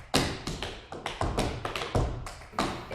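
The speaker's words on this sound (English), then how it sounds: "the thing that really makes tap dance unique is the audible part of it" Tap dance steps in a Chicago studio, a rapid run of crisp metallic taps and heavier thumps in a lively uneven rhythm, close and loud with no voices.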